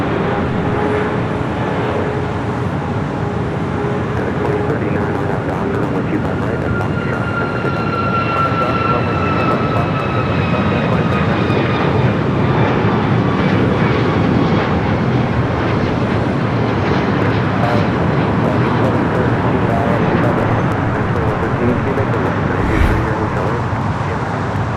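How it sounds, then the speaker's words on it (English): Boeing 777-300ER arriving at LAX from Manila: a continuous loud jet rumble with whining engine tones that shift in pitch as the aircraft passes, over a steady airport background and no talk. "Flight 112 coming up from Manila. 777 at 300 ER."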